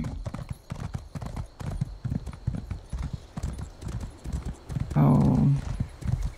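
Horse hooves clip-clop in a steady rhythm in The Elder Scrolls Online: Necrom, close and fairly quiet, with a short louder burst near the end.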